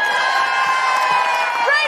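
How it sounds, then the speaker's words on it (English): A live audience at a comedy show cheers and whoops in a dense, sustained roar, loud and close, with shouted voices mixed into the crowd noise. "And finally, a big round of applause for Chris."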